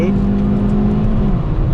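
Hyundai i30 N Line engine accelerating hard on a race circuit, a loud, steady near drone building through the gears, with a voice talking over it.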